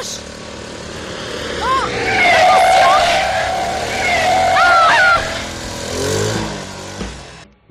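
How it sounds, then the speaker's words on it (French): A car approaching on a road in a 1975 French film, engine rising to a loud, close roar with tyre squeal before cutting off, and a man exclaims over it. "Il y a une voiture qui s'approche !"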